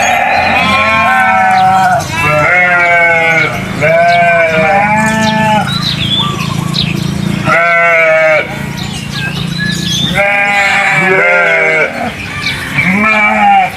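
Sheep and lambs on a farm bleat loudly and close by, call after call in overlapping, quavering cries with short gaps between them.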